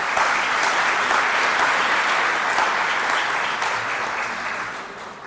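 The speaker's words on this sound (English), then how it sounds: "Would you please join me in a round of applause for these capable leaders of our organizations?" A round of applause at a civic association's annual meeting, a dense, sustained clapping from a seated audience that holds strongly and then begins tapering off toward the end.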